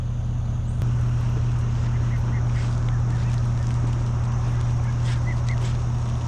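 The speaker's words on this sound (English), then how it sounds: "Lorelai, Lorelai, Lorelai, Lorme, leave the duck alone." Ducks by a river near a boat honk and quack faintly and sporadically over a steady, loud low hum.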